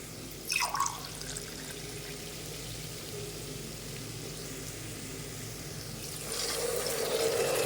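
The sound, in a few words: pouring coconut milk into cooker for pulao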